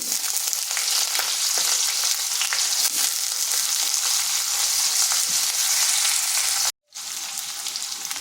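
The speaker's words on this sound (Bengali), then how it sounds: "ওই তেলের মধ্যে দিয়ে দিচ্ছি কালো জিরা আর একটি শুকনো লঙ্কা, দিচ্ছি কেটে রাখা আলু" Steady, loud sizzle of nigella seeds, a dried chilli and cut potatoes frying in hot oil, a continuous hiss with faint stirring clicks, briefly cutting out near the end before resuming.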